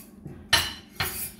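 A lid goes onto a cooking pot holding pork fillet and vegetables set to steam, giving two sharp metallic clanks about half a second apart, close by over a faint low background.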